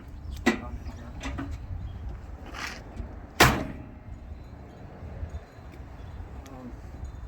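On a 2013 GMC Savana Class B campervan, a door is shut with one firm thud midway, among fainter knocks and rattles. People talk quietly over a low outdoor rumble.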